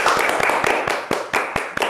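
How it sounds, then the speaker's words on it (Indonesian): Junior high school students, champions of an Islamic quiz contest, clap their hands in a quick, steady rhythm of sharp close claps for about two seconds. "Ya, tepuk tangan dulu buat kalian"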